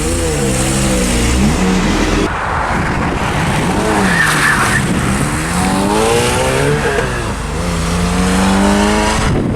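A 2003 Pontiac Vibe GT is driven on a test drive, its engine loud and close as it revs through rising and falling gear pulls, with a brief pause between shifts and steady road noise.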